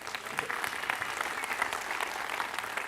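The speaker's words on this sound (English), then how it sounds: "I just would appreciate if you'd give a round of applause for them." Audience at a New Horizons Pluto mission event in Denver applauds the families, a short burst of steady, moderately faint clapping from a crowd.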